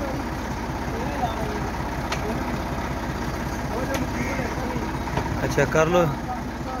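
Massey Ferguson tractor engine running in a Punjab maize field, a steady close low rumble with rhythmic pulsing throughout, a few metallic clanks, and people talking over it.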